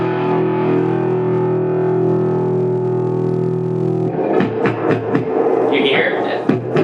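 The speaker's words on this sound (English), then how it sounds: "Here's the reverb." A sustained, buzzing guitar tone through a Genz Benz Diablo 100 amplifier's reverb rings out with a long wash of reverb, then gives way to rattling, clattering noises toward the end.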